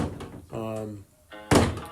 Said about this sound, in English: It's my cat trying to bang the door down.